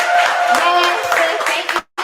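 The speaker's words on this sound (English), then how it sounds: "Everybody clap for the nominations, y'all." An audience at a community sneaker ball claps for nominees, brief clapping mixed with voices and cheering over music, loud and close, then a sudden cutoff to near silence at the end.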